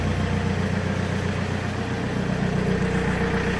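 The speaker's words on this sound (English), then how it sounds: "There's definitely an exhaust leak at the front." A Vauxhall Insignia engine idling with an exhaust leak at the front, a steady low rumble with a fast regular ticking pulse, close and even throughout with no talking.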